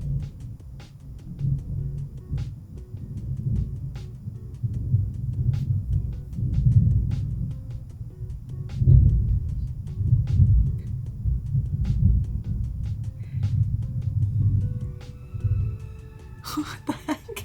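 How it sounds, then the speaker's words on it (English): Long, deep rolling thunder during a rainstorm, rumbling continuously for many seconds with swelling and fading surges, heard from indoors with a few faint clicks and a brief voice near the end. "Did you guys hear that super long thunder?"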